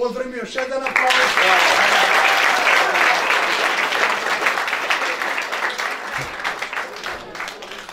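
Loud, dense applause from an audience at a church ordination ceremony in Leskovac, starting after a second and sustained steadily to the end, with some voices mixed in.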